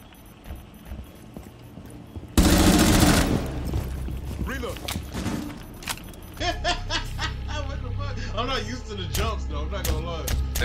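A shotgun fires in an online video game, one loud blast cutting in over quiet game ambience and followed by further bursts and clatter, while players talk and laugh over it.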